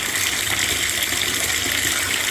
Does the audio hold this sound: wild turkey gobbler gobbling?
no